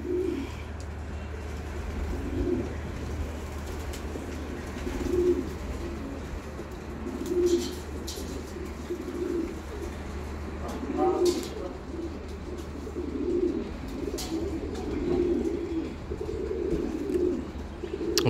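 Pigeons coo in a loft in repeated soft, rhythmic phrases, one after another, over steady low background hum, with a few brief higher chirps mixed in.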